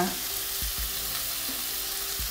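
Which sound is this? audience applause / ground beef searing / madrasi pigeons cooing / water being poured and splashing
ground beef searing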